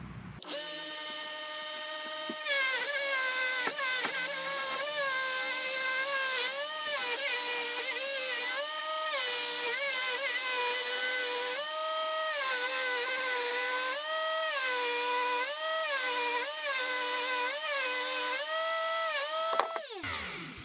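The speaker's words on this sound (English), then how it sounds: "Going to clean it Del Boy style. Dremel in the vise" A Dremel rotary tool clamped in a vise spins a wire brush to clean exhaust nuts from a Harley-Davidson Sportster, giving a loud, steady high-pitched whine that repeatedly dips and rises in pitch as the nuts are pressed against the brush, with no talking.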